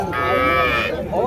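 Cattle low and call at a busy rural livestock market in Vaniyambadi where native breed cows and bulls are traded; one loud, sustained moo rings out close by over crowd murmur and talk.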